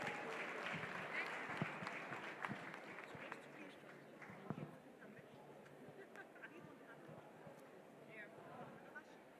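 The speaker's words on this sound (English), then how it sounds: "A round of applause for them, please." Audience applause at a startup pitching demo day welcoming a presenting team, a moderate burst of clapping at the start that thins and fades, with faint crowd murmur underneath.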